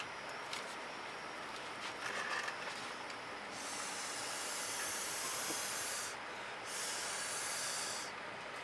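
Air is blown across wet poured paint on a canvas, making a steady breathy hiss that comes in long bursts with brief pauses, close and fairly loud with no talking.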